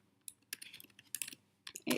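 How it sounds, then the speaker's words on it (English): Keys clatter on a computer keyboard in short irregular bursts of clicks with brief pauses between them, close and fairly quiet, ending in a louder flurry of keystrokes. "it's just simply a case of just typing"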